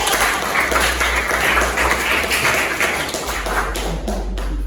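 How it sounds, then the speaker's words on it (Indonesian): An audience at a biology teacher-education class presentation claps together in steady, dense applause that continues throughout at close range and then tapers slightly near the end. "Kita berikan aplaus dulu."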